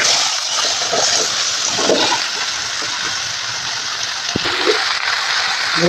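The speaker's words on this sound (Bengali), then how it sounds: "এবার তুলে নেব সবজিগুলোকে দিয়ে দেবো তেলের মধ্যে" Chopped vegetables for Bengali shukto hit hot frying oil, giving a loud, steady sizzle and bubbling hiss that runs the whole time with no voices.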